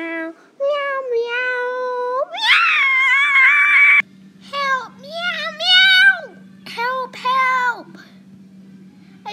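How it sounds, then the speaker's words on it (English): A cat meows repeatedly in drawn-out, rising and falling cries, close and loud, with a steady low hum starting partway through. "What is that meow?"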